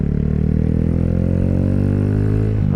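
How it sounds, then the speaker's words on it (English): Kawasaki Z125 Pro motorcycle engine revving freely after slipping into neutral on a downshift, a steady loud whine that climbs in pitch over a few seconds, then a brief clunk at the end, no talk. "I was trying to shift down into first and went into neutral."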